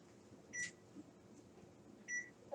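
Two short, quiet electronic beeps about one and a half seconds apart come from a kitchen timer being set for ten minutes while spaghetti is cooked, with faint kitchen background hum.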